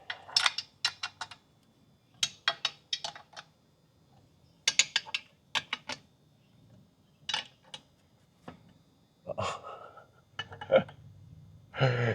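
Ratchet wrench clicking while tightening bolts a half turn each on a K20Z3 engine block for a supercharged eighth-generation Honda Civic Si, short bursts of rapid metallic clicks separated by pauses, close and crisp.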